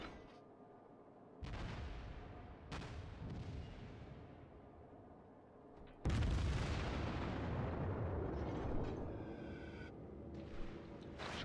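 Heavy booming naval artillery in World of Warships, a Kongo battleship firing: a couple of muffled blasts followed by a louder roaring salvo with long rumbling decay, no voices.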